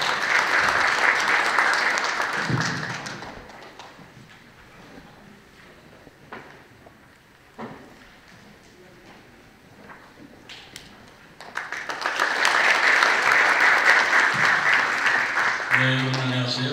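Audience applause greets the mayor of Sejong Special Self-Governing City at a local autonomy conference. A loud burst of clapping fades over about three seconds, a quiet stretch of faint room noise and scattered taps follows, then a second full round of applause swells.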